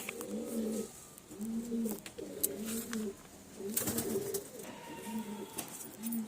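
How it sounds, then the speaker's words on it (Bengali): A pigeon at a loft coos in repeated low, throaty phrases, about six in a row at a steady rhythm, fairly close, with a few faint sharp knocks and rustles between them. "একটা বাচ্চা পায়রা আমি ছেড়ে দেখাচ্ছি, উপরে দেখুন বন্ধুরা"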